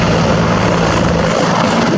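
Tiger and LUH military helicopters circle overhead during a military demonstration at the ILA 2018 air show, a loud, steady roar of rotors and engines that fills the whole stretch.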